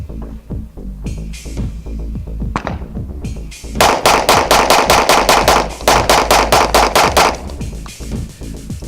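Smith & Wesson M&P 2.0 9mm pistol firing a rapid string of about fifteen sharp, loud shots at a range, closely spaced with steady rhythm, preceded by quieter clicks and handling noise.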